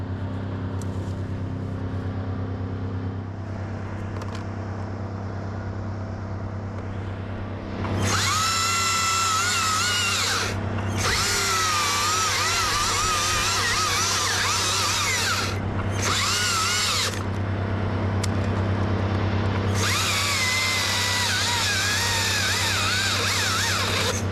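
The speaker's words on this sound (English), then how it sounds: "Let me get you another chainsaw real quick." A chainsaw cuts into a large sycamore tree, starting with a low idle and then revving into loud, high-pitched bursts of cutting, several long runs broken by short pauses while the engine drops back to idle.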